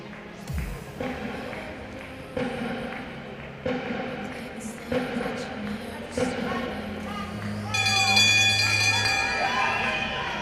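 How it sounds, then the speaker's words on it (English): A bell rings for the final lap of a Masters race, clanging repeatedly near the end over a race commentator's voice and a steady crowd murmur. "Bell and 1 lap to go."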